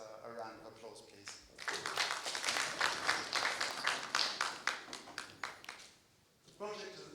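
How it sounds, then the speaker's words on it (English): Audience applause at a community project gathering, a few seconds of dense, fairly steady clapping from a room of people, with speech before and after it. "I'd like you to all give yourselves a round of applause, please."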